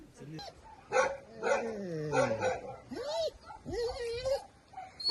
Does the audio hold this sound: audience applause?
no